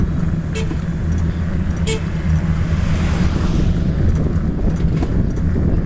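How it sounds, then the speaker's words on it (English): Steady, loud wind rushing across the microphone while riding a Hero Lectro Renew electric bicycle along a straight road at about 1188 m altitude in Kalimpong, with distant traffic and two brief car horn toots early on. "The wind pressure here acts against you when you cycle."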